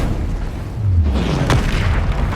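A Confringo spell explodes in Hogwarts Legacy combat, giving a short, deep booming burst that swells briefly and fades amid a rumbling game soundscape.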